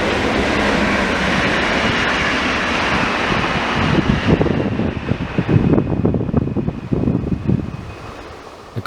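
A Talent 2 regional train passes close by, a loud rushing roar of wheels and air that builds and then breaks into rhythmic clatter as the carriages go past, with wind buffeting the microphone.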